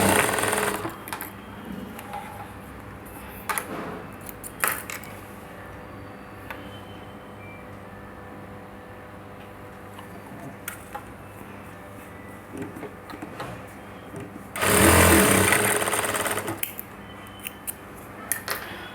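Stitching a blouse neckline, a sewing machine runs in one loud burst of about two seconds late on, after a long stretch of quiet handling and light clicks of fabric and tools.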